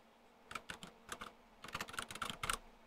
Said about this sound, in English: by typing in XModem receive and then the enter button.